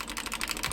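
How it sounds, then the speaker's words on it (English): Rapid, subtle keystrokes on an undampened Anne II Pro mechanical keyboard, a quick run of close, crisp clicks with no talking. "That is purely how the sound of the keyboard itself is"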